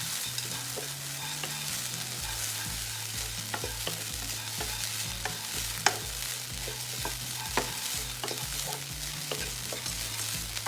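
Grated coconut sautés in a pan for turkey berry kuzhambu, giving a continuous frying sizzle with frequent spoon scrapes and taps against the pan, all clearly audible and with no one talking.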